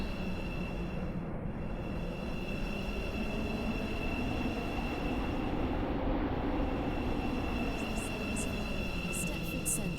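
A Roblox Stepford County Railway metro train rolls along with a steady, droning rumble and a constant high electrical whine under it, close and continuous for the whole stretch.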